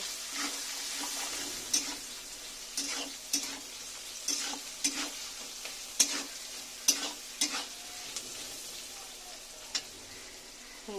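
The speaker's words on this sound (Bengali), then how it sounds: "হলুদ দিয়ে এর সঙ্গে সুন্দর করে নেড়ে চেড়ে নেব" Vegetables with salt and turmeric stirred in a frying pan, a low continuous sizzle broken by regular scraping stirs and crisp spoon taps, close and even, with no speech.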